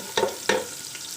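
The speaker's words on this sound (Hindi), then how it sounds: "अब इसमें हम इसको अच्छे से फ्राई कर लेंगे तब तक जब तक ये गोल्डन ब्राउन हो जाए।" Onions sizzling in cooking oil as they fry toward golden brown, a steady hiss with two sharper stir-like scrapes early on, close and fairly loud with no talking.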